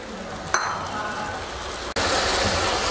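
Chopped tomatoes drop into a pan of pav bhaji vegetables with a brief clink, followed by steady loud sizzling and frying.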